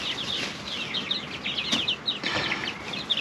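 Chickens and a small rooster in a coop run, giving bright, repeated clucks and calls with a brief burst of wing flapping midway, close and fairly clear over a steady outdoor background.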